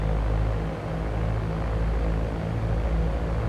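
A Cessna 172 propeller engine droning steadily at high power during takeoff in the X-Plane 11 flight simulator, a constant low rumble with a buzzing prop tone and no other sounds.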